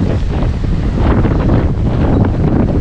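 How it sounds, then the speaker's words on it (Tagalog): Strong wind buffets the microphone on the Batangas City coast, a loud steady roar with gusty low rumble and no talk. "Napakalakas ng hangin."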